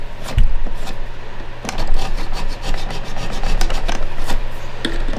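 A chisel scrapes glue residue from the nut slot of a Fender acoustic guitar under repair, producing a close, steady run of rapid, rasping wood-scraping strokes over a low hum.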